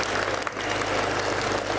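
Steady, dense applause from an audience at a primary school cultural program for Republic Day, loud and continuous with a low hum running beneath it.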